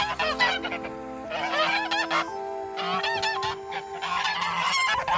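Geese honk loudly and repeatedly at a newly built pond, their calls overlapping in a noisy, close chorus.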